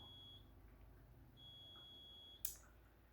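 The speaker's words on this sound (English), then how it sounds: "That's the air fryer going off." An air fryer sounds its finished signal: two thin, steady high beeps spaced about a second apart, then a sharp click, all faint against a quiet room hum.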